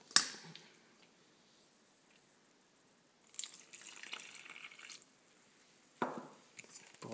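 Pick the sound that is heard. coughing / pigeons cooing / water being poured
water being poured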